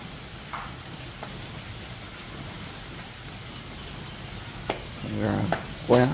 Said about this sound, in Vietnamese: Trời nhiên lại mưa các bác